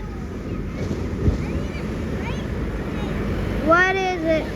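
Large ocean waves breaking at Aliso Beach, a steady roar of surf with wind noise on the microphone and a few faint high whistling or bird-like tones near the end.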